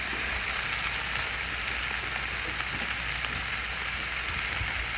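Squash and purple onion hit a hot pan, setting off a loud, steady, dense sizzle that holds evenly from start to finish with no talking.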